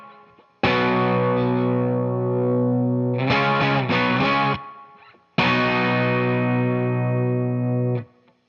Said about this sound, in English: we've got just this 2-bar riff that uses 2 chords. Here's what it sounds like